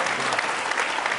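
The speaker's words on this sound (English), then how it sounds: "Big round of applause for Daniel and Alex and Alicia." An audience at a business conference claps in a dense, steady burst of applause, loud and close, with no pause over its short length.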